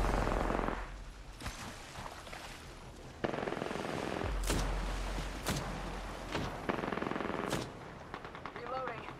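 Rapid automatic gunfire bursts from a sci-fi battle royale shooter, loud and close, with sharp single shots and explosive cracks scattered through continuous combat noise, and game voice callouts mixed in.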